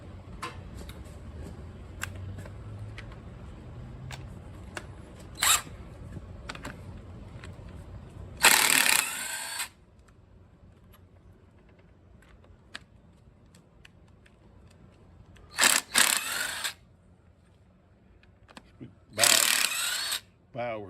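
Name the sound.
impact wrench removing tractor head bolts, Massey Ferguson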